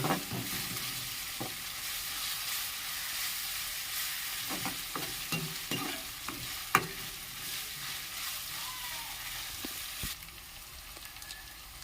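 Ginger-garlic paste frying in a pan with onions, a steady hiss of oil broken by repeated spoon scrapes and taps, one sharper clack near the middle, no talking.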